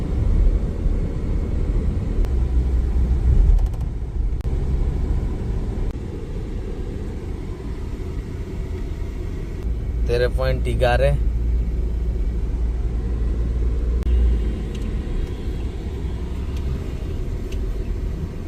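A Mahindra Scorpio BS6 pickup drives along, its engine and road noise forming a steady low rumble throughout, with a brief burst of louder noise midway and a voice speaking briefly over it.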